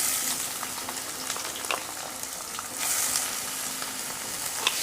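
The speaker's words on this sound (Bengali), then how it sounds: "এবার তেলের সঙ্গে পেঁয়াজটা একটু নাড়াচাড়া করে ভেজে নেব।" Chopped onion frying in oil with dried chili and small cardamom, a dense continuous sizzle close by with occasional light stirring clicks.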